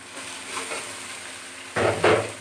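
Green chillies and tomato cooking in a pan, a soft sizzle with light stirring scrapes, then two louder bursts of frying hiss close by near the end.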